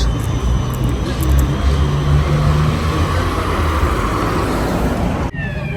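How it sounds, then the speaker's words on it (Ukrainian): A trolleybus passes on a city street in Lviv, its steady electric drone and road rumble loud and close throughout, with traffic noise around it. "Леончик, дивись, тролейбус їде."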